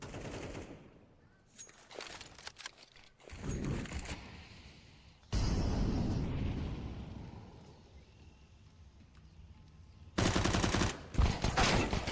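Gunshots in the video game Counter-Strike 2, sharp loud bursts of rifle fire separated by quieter stretches, with a final close burst near the end.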